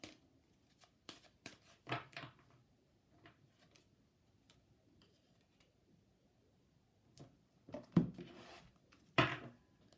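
Oracle cards shuffled and handled by hand, a few soft papery taps and riffles spaced through the stretch, with a dense burst near the start and two louder flurries toward the end, close and unaccompanied by talk.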